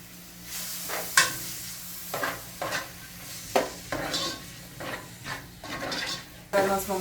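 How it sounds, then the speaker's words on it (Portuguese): Onion sautés in a pan for Brazilian caruru, a soft steady sizzle broken by repeated close scrapes and clinks of a utensil stirring against the pan at irregular intervals. "Nós vamos refogar a cebola"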